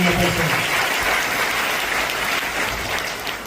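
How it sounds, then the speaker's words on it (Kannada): A church congregation clapping to praise God during a worship service, a loud, dense wall of applause from many hands that carries steadily throughout, with no speech over it. "ಚಪ್ಪಾಳೆ ಹೊಡೆದು ದೇವರನ್ನ"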